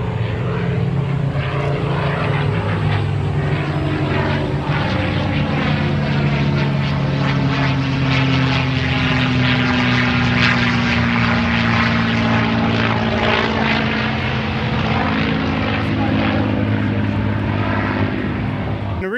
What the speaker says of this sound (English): And the P-51 Mustang.